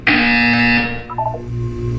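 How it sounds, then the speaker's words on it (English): A harsh electronic buzzer sounds once in the video game Portal 2, loud and sustained for under a second before cutting off, followed by softer game tones. "You will hear a buzzer."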